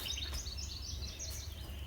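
Wild birds at backyard feeders chirp in quick, high repeated notes, a lively bright twittering over soft background noise.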